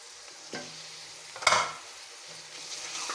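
Chicken pieces frying in a pan with garlic and ginger for a chicken shimla mirch dish, soft steady sizzle broken by a few scraping stirs, one louder clatter midway.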